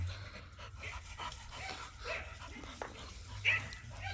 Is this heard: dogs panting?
yes